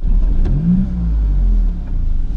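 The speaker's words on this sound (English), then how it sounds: "Right, let's get the engine on and let's go." A Maserati MC20 engine turns over and revs, loud and close throughout, with a deep throbbing drone that swells and settles in a couple of rising and falling pitch sweeps.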